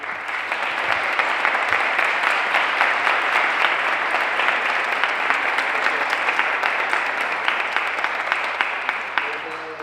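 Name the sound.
applause for Mario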